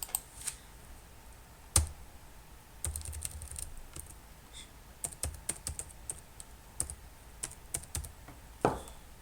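Typing on a computer keyboard while filling in an online visa form: scattered, close key taps in irregular bursts with a few sharper clicks and short pauses, no voices.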